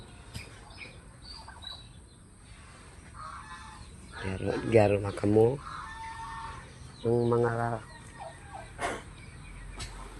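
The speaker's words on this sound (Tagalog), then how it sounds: "Good morning mga pabo." Turkeys near a rural hut let out two loud, rapid, warbling gobbles a few seconds apart, close by, while someone speaks quietly before and between the calls.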